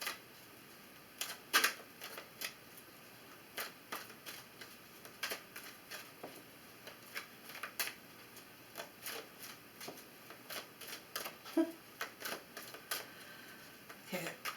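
Two decks of tarot cards are shuffled in quick bursts of crisp riffling and slapping, running close and steady throughout under occasional quiet talk.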